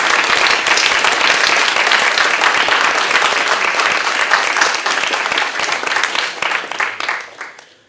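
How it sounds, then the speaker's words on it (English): A conference audience at GUADEC 2023 applauds the mentors, loud dense clapping that holds steady for several seconds before fading away at the end. "maybe let's do a round of applause to our mentors."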